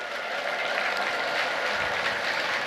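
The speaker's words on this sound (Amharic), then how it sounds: "እልል ብላችሁ አመስግኑልኝ" A church congregation ululating in praise, a dense, sustained wash of high trilling voices mixed with what sounds like clapping, steady and fairly distant with no single voice standing out.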